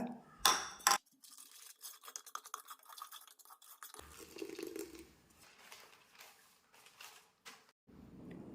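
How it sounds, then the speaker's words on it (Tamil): Baking soda is worked into fermented batter paste with quick, uneven scraping and stirring strokes, near and fairly faint, some bursts denser than others, with short pauses between. "பேக்கிங் சோடாவை இந்த புளிச்ச மாவு கூட நல்லா மிக்ஸ் பண்ணிக்கோங்க"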